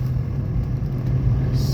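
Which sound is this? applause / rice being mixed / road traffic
road traffic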